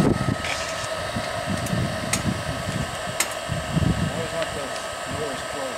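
A blower runs on a live-steam scale Pacific 4-6-2 locomotive being fired up, giving a steady, close whooshing hiss with faint whining tones, while someone talks over it throughout.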